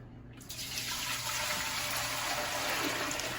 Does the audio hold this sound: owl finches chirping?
no